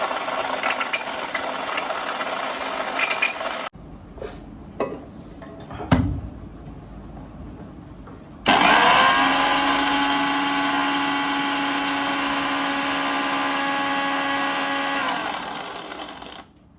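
A household juicer grinding chutney, a steady loud motor whir that starts abruptly after some quiet handling clatter and runs continuously for several seconds before cutting off.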